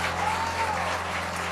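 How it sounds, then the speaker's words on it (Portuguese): A church congregation at a Sunday service in Lisbon claps loudly and continuously. The dense applause holds steady over a low hum. "Aplauda Jesus o mais alto que você puder"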